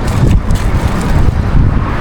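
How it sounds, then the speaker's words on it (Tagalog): Strong wind buffets the microphone outdoors during tilapia fishing, a loud continuous low roar with no talk. "Lumakas na naman ang hangin."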